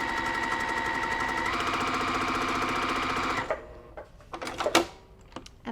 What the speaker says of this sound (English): I will start and stop my stitching on the fabric and just stitch straight down.